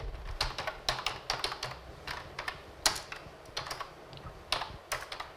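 Rapid bursts of typing on a computer keyboard while entering a search query for a Windows 10 disk image, close and clear, with uneven clusters of key clicks and brief pauses between them.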